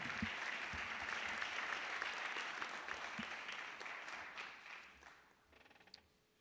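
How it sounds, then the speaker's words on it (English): Dense audience applause fills a hall during an athletics hall of honor induction ceremony, steady and sustained before thinning out into scattered claps near the end. "Let's hear a big round of applause one more time for the 2004 State Baseball Championship team."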